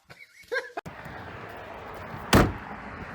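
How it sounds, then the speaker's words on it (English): The door of a 2004 Buick Rendezvous slams shut with a single loud, close thump after a few brief rattles and small noises. "Slam the door."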